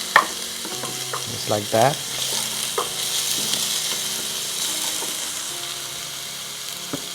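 Whole red onion sizzling in a pan while cooking masala shrimp biryani, a steady broadband fry hiss with a few brief clatters and stirring scrapes near the start, and a voice briefly speaks.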